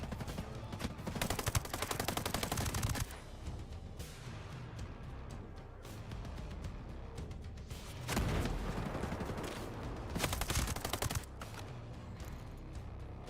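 Rapid automatic gunfire in the tactical shooter Ghost Recon Breakpoint, loud sustained bursts with brief pauses between them, heavier volleys around the middle and end.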